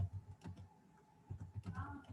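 Someone types on a computer keyboard, a quick irregular run of light clicking keystrokes in two short bursts separated by a brief pause, close and fairly quiet.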